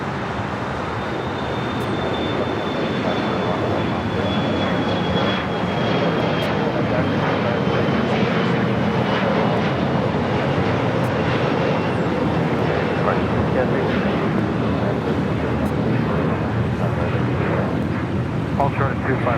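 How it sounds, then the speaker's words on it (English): A jet airliner bound for Omaha takes off from runway 25 right at LAX, a loud, steady roar of engines filling the whole stretch with a slowly shifting whine, close and continuous with faint talk beneath. "Is the flight to Omaha, now taking off on 25 right."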